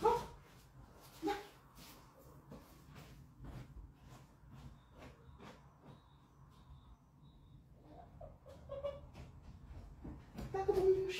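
A pet dog out in a garden gives a few short barks and yips, spaced irregularly and somewhat distant, with quiet background sounds between them.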